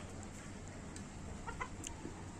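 Chickens cluck softly in the distance in the rain over a steady, noisy background, with a few brief higher calls standing out near the end.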